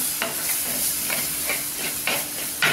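Spice powder sautéing in a pan for Tamil fish kulambu, a fish curry: a loud, constant hissing sizzle with a few brief stirring scrapes at intervals. No voices.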